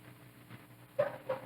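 A dog gives two short, muffled barks in quick succession, faint and somewhat distant, over a quiet indoor background.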